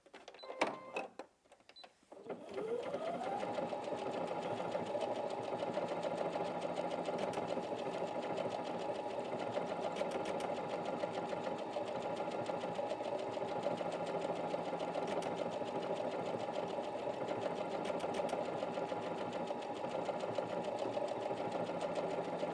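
A Brother Innov-is NV1800Q sewing machine starts up and runs steadily on an extra wide decorative stitch, a continuous even whirring hum with fine rapid ticking, close and alone after a brief clatter at the start.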